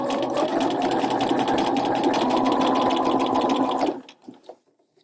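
A sewing machine fitted with a narrow hemmer foot hems a seam in one loud, close, steady run. It stops abruptly and a few soft handling clicks follow.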